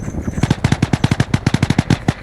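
Rapid video game gunfire, a close, loud string of about twenty evenly spaced automatic shots over a couple of seconds.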